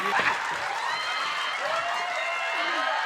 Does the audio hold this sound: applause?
yes